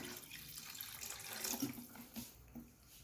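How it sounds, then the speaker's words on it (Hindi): Plain water is poured into a pot of chana pulao, a soft, continuous splashing trickle heard close but quietly, with no talking. "ये मैं सादा पानी ऐड कर रही हूँ।"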